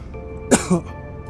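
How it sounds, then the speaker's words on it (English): A single close cough, two quick harsh bursts in a row, then quiet. "Sorry about that, I had to cough."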